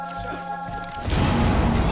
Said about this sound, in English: Impact nade.